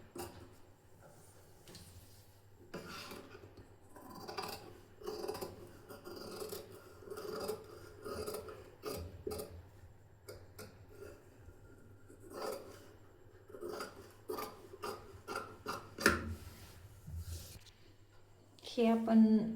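Scissors cut blouse fabric along chalk markings in a run of soft, close snips and rustles, with someone talking throughout.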